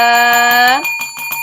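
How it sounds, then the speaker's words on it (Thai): A short, bright notification bell chime rings out loud with a shimmering decay, then gives way to a fainter rhythmic tapping pattern for the rest of the moment. "กดกระดิ่งกริ๊งกริ๊ง"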